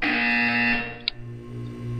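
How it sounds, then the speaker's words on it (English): A steady electronic buzzer from the video game Portal 2 drones loudly for about a second, then cuts off with a brief click, leaving a low hum behind. "When you hear the buzzer, look down at the floor."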